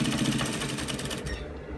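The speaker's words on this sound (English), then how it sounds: "I'm going to place it under the machine like this. Then I'm going to stitch." Rapid machine stitching along a shirt collar, a steady loud mechanical buzz lasting under two seconds and easing off near the end, with no talking.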